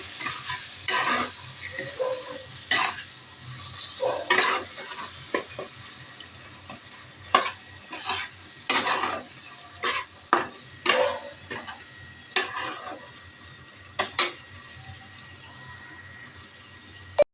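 Chopped medium tomato being sautéed in oil in a pan for a Bengali shorshe posto parshe fish curry: intermittent scraping stirs over a soft, steady sizzle, close by, with no talk.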